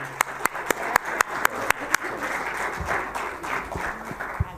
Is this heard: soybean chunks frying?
no